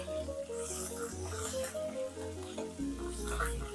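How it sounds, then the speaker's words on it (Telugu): Green chillies and onions fry in hot oil for a tempering, a steady close sizzle and crackle with faint stirring scrapes throughout. "నూనె వేగితే చక్కగా మనకి చిటపటమని శబ్దం వస్తుందండి."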